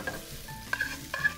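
Onions sauté with garlic in a pan, a brief close sizzle broken by a few scraping stirs of a utensil. No voices are heard.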